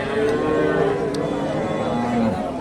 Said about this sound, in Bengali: এখানে একটা গাভী দেখতেছি